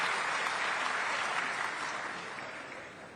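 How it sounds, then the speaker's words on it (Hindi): A large audience at a PM Kisan farmers' event in Raipur gives dense, sustained applause that slowly fades toward the end. "जोरदार तालियां"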